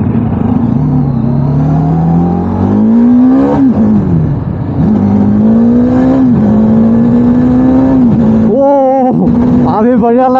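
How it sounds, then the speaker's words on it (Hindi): Motorcycle on new CEAT Zoom Rad X1 tyres revving and accelerating hard at speed, a loud steady engine drone rising and falling in pitch with gear changes, close and continuous throughout, with wind rush and brief voices. "और अभी गाइस बाइक को भगा के देखेगा,"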